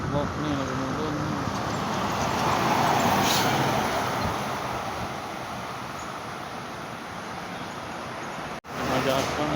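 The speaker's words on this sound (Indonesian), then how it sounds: "Truk nih lagi mudun nih." Truck driving downhill on the Cipeundeuy climb, a broad continuous engine and road rumble passing nearby that swells in the first half and then eases, with traffic noise around it and no clear talk.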